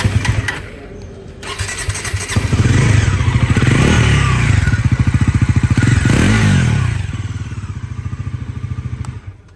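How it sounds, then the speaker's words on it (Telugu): A Bajaj Pulsar NS400 motorcycle fitted with a Dominar engine and an underbelly exhaust starts up close by, revs loudly in rising and falling bursts, then settles into a steady, pulsing idle. "సో గైస్ ఇది మొత్తం డామినర్ ఇంజన్"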